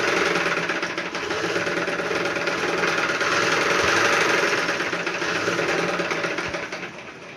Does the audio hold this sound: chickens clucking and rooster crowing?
no